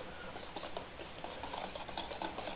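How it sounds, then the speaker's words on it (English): Cake batter for a Christmas plum cake whisked by hand in a bowl, a steady fast pattering and ticking of the whisk, close and continuous with no talk. "I'll keep on whisking it till it becomes fluffy"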